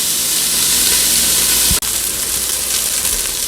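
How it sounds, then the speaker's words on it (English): Diced onion and garlic sizzle steadily in a Ninja Foodi, a loud, even hiss of frying with a brief dip partway through, then the crackle carries on alone. "And then I'm throwing in my diced onion and my garlic."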